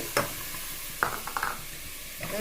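Spiced fish fries lightly in a pan with a steady, close hiss of sizzling, broken by a few sharp scrapes and clinks as a utensil stirs the pieces.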